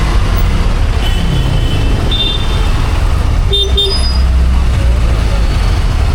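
A road traffic jam near Khandala, heard from a motorbike, with a steady loud roar of engines and wind, a few brief horn toots, and someone talking over it.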